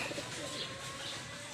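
A racing pigeon gives soft, low cooing in a loft setting, faint and partly buried under a steady background hiss, with a few light chirps and no talking.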